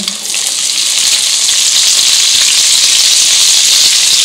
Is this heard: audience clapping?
no